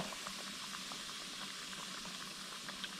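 Coconut-crusted redfish fingers fry in a pan of oil, producing a soft, steady bubbling sizzle that stays constant and fairly quiet from start to finish.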